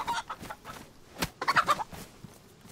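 Chicken clucking in the survival video game DayZ, a series of short, fairly close clucks and squawks in irregular bursts, busiest toward the middle of the clip, with no talk over it.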